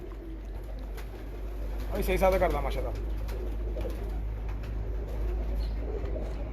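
A pigeon coos in a short warbling burst on a rooftop, close and moderately loud, over a low constant hum, while someone talks nearby.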